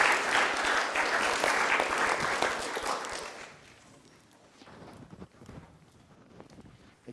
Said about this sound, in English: thank you very much, and a round of applause.